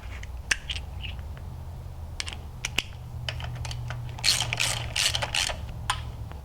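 Bolts being tightened on an LSA supercharger pulley system with a ratchet wrench, producing sharp quick clicks in irregular bursts, close and crisp against a low steady hum.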